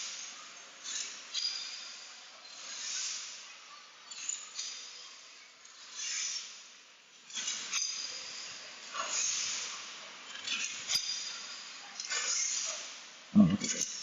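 Functioning steam engine on display at the Science Museum in London, soft hissing bursts that rise and fade repeatedly over a quiet background, with brief voices nearby.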